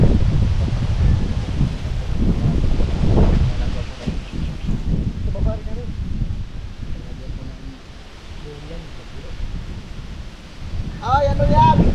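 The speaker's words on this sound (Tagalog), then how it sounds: "Lakas ng hangin." Strong wind gusting through vegetation in an open field near a hammock, a loud continuous rushing roar that swells and eases, with brief voices near the end.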